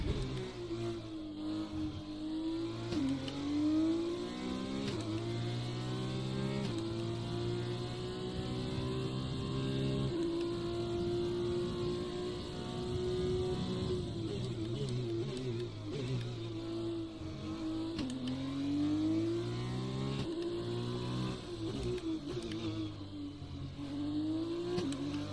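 An F2 race car in a racing game, on the Azerbaijan street circuit, revs through repeated rising and falling engine sweeps as it shifts up and down through gears, a steady loud onboard whine with no voices.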